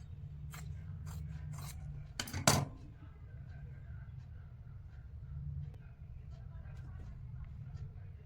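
Scissors cutting pant fabric at close range, a few short crisp snips and one louder cut near the middle over a low steady background hum.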